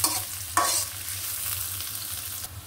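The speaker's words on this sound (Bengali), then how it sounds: "এখন আমি এটা ভালো করে ভেজে নেব।" Dried churi fish fries with chopped onion and green chilies in hot oil, giving a steady close sizzle with sharp stirring scrapes near the start.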